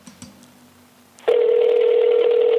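A telephone call connecting: quiet line noise and faint clicks, then a loud steady electronic tone abruptly starts and holds, close and alone.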